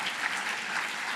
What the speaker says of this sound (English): Let's give a round of applause to Dave Kiff